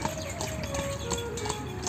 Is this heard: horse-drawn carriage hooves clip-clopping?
yes